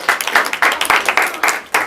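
A live audience claps in a round of applause for a student group at a leadership camp, dense, close clapping in repeated bursts filling the short stretch without speech.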